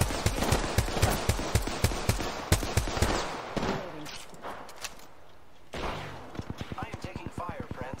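Rapid gunfire rings out in the video game Apex Legends. Sharp shots crack in quick bursts, first in a dense stream and then in a steady tapping run after a short lull, while players talk over the firing.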